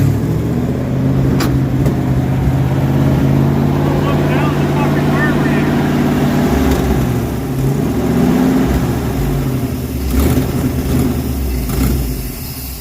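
A 1968 Dodge W200 Power Wagon engine running rough, a loud uneven idle that surges and dips throughout, with a few sharp clanks and noises over the running engine.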